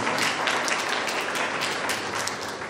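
A congregation applauds at a Holy Mass and the blessing of a catechetical pastoral centre, with dense, moderately distant clapping that holds steady throughout, no voices.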